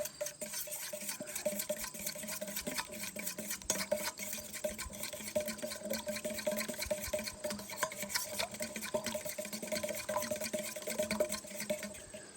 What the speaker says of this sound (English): I could give this a good stir